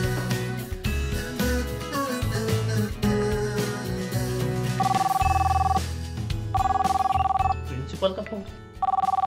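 Telephone ringing in a home, with a steady repeating electronic ring tone sounding in several bursts over background music and voices.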